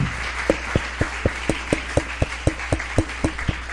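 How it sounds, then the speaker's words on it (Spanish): Steady, rhythmic clapping in unison at a church revival service, about four claps per second, over a constant crowd murmur. "Démosle un fuerte aplauso a Steven."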